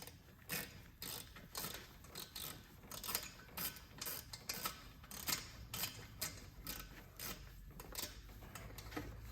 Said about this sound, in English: I know I don't need a ratchet, but it's mostly so I don't lose the bit